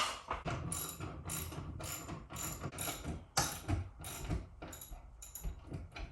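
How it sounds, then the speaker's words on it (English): A ratchet wrench tightens a 17 mm bolt for a ceiling-mounted kayak and bike hoist in a garage, clicking in quick repeated bursts of close ratcheting strokes with short pauses in between. "You can over ratchet these, it looks like."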